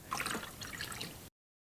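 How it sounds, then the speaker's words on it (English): A small water pump on a four-cylinder nitro RC engine trickles and drips as it fills the engine block with water, a soft close liquid sound lasting about a second before cutting off. "I'm just gonna start it up and let it pump the water into the block."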